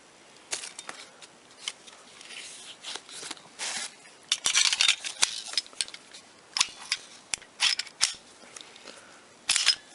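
An IMI Jericho 941F pistol has its slide racked and handled close by, sharp metallic clicks and clacks scattered irregularly over ten seconds, with no talk.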